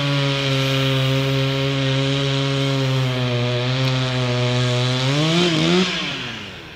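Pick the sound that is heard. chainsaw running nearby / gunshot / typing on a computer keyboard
chainsaw running nearby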